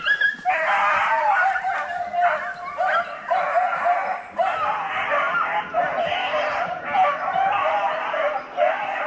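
Hunting dogs outdoors in the woods bark and yip in rapid, overlapping bursts, a continuous excited chorus of high-pitched cries at moderate distance with brief lulls between volleys.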